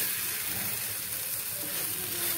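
Palm jaggery dosa sizzles steadily on a hot pan with ghee, a continuous close hiss and crackle with no talking.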